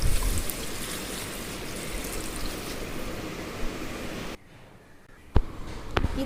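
Water is poured steadily into a pot of mutton breast bone soup, a continuous rushing trickle that stops abruptly, followed by a few faint clinks.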